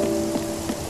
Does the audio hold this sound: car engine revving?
no